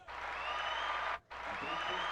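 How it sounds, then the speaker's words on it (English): A canned applause effect fired from a soundboard during a live stream plays as a steady wash of clapping and crowd noise. It cuts out briefly, then resumes at the same even level. "That's our applause."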